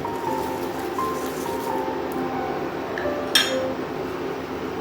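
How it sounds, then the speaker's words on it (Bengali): A spoon stirs sugar into boiling milk for simui kheer in a pot, giving a few light metallic clinks over a soft background hiss, faint and without speech. "এর মধ্যে আমি এখন চিনিটা মিশিয়ে দেব।"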